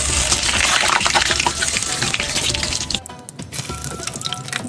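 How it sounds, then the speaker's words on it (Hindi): Fried dahi bara lentil dumplings are dropped into a bowl of salted water, a loud continuous gush and splash that briefly breaks off and then resumes more quietly. "यहाँ दूसरा बैच भी हमारा जाएगा नमक वाले पानी में।"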